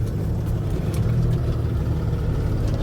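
A low, steady truck engine idle rumbles continuously, close by and fairly loud, with no talking.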